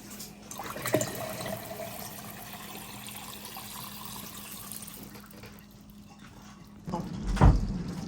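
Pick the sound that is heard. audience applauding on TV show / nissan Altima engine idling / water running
water running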